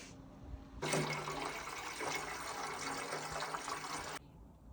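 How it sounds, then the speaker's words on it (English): Water is poured to top up the coolant of a Centurion ARV tank, a steady rushing gush that starts abruptly, runs about three seconds at close range and stops sharply. "I need to top it up with some water."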